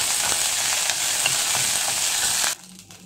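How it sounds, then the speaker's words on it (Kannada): Green chilies and curry leaves spluttering in hot oil, a loud, busy sizzle with small pops that runs close for most of the time, then drops abruptly to a quiet hiss. "ತೆಗೆದಿಟ್ಕೊಂಡಿರೋ ಹಸಿಮೆಣಸಿನಕಾಯಿ ಹಾಕ್ತೀನಿ ಮತ್ತು ಸ್ವಲ್ಪ ಕರಿಬೇವಿನ ಸೊಪ್ಪು ಹಾಕ್ತೀನಿ"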